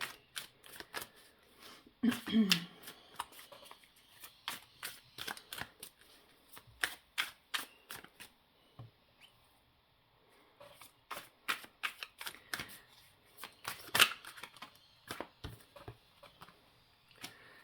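A deck of tarot cards is shuffled up close, with rapid repeated riffling and flicking bursts in quick succession, pausing briefly before more shuffling, quiet and without talk.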